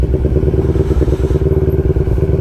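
Motorcycle on a ride from Quezon City to San Narciso, Quezon province, being ridden in and parked nearby, its engine putting out a loud, close, rhythmic low chug with some clatter.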